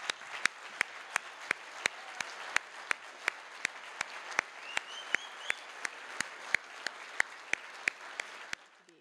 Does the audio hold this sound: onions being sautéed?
no